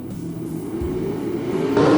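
Modified race cars at Farmer City Raceway rumble in a steady, building engine roar heard from the stands, growing louder toward the end.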